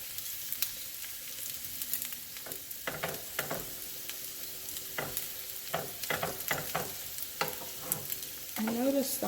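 Potato, chicken and cheese tacos fry in a hot pan, a soft steady sizzle broken by scraping and pressing knocks from a spatula, with a brief squeak near the end.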